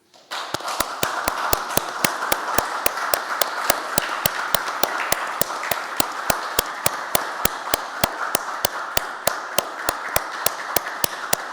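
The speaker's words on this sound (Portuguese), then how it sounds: "uma salva de palmas ao doutor Adalberto" Rhythmic applause in a council session, a regular beat of sharp unison claps over a continuous bed of scattered clapping from the room, sustained and fairly close throughout.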